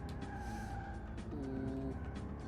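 A Volkswagen Beetle in a racing video game, its engine droning steadily while tires squeal briefly in a skid midway through, a short burst of game driving sound with no voices.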